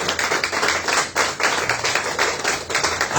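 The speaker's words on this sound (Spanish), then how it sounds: "Un aplauso fuerte al Señor." A church congregation claps together in dense, continuous applause during a worship service, loud and sustained with no talk over it.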